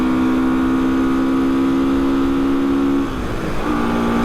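A 1975 Honda CB360T motorcycle pulls steadily under load in a high gear, its engine drone holding an even pitch before briefly dropping and picking back up as a shift goes through, with no talk over it.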